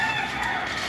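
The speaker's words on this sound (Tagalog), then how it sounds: "Ito yung mga manok ko." Chickens cluck in a brief, dense burst, several birds close by making overlapping calls with no talking.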